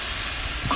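Pork chops and bacon sizzling in a pan at a campground, a dense, close hiss crackling continuously through a brief moment, with no talking.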